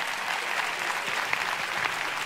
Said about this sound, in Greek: Ένα χειροκρότημα και για τον μαέστρο μας,